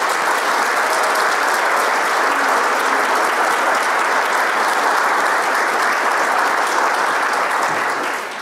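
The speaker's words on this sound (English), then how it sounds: "let's give a round of applause one more time for tonight's graduates." A large audience gives loud, sustained applause for graduates at a graduation event, a dense continuous roar of clapping that holds steady for several seconds before easing slightly at the end.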